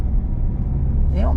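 A car accelerating up a motorway slip road during a driving lesson, its engine a steady low rumble close inside the cabin, with a voice briefly heard near the end.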